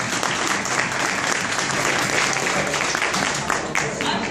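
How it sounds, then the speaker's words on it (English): Crowd applause at the Brass Ring Academy fashion show for Cloak & Dagger Creations, a sustained wash of many hands clapping at steady loudness throughout, close and full. "Let's give Lauren another round of applause for the opportunity she has given"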